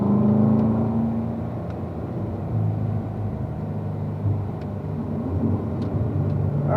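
A car accelerating on a race track during driver coaching, heard as a steady, close engine rumble and whir that holds for several seconds with no voices over it.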